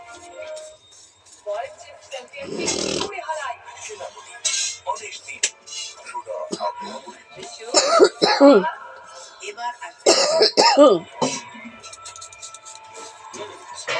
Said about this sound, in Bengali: কাশিটা জীবনে যাচ্ছে না